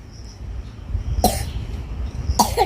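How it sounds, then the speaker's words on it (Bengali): Two sharp coughs indoors at home, about a second apart, each short and fairly close, standing out against a low, steady room background with no talking. "কাশি হচ্ছে হ্যাঁ"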